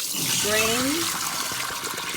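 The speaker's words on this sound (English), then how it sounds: "you're going to drain the water from off of, just throw it into a colander" Soaking water from sea moss poured off into a colander, a steady splashing trickle running for a couple of seconds, with a voice briefly heard near the start.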